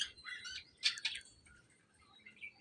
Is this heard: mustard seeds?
no